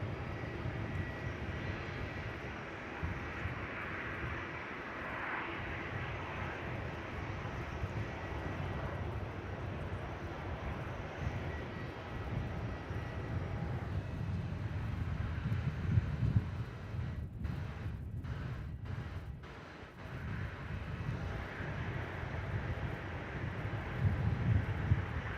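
An airliner takes off from Melbourne Airport, a steady broad engine roar that builds and swells over the whole stretch, with gusty wind noise on the microphone and no talking.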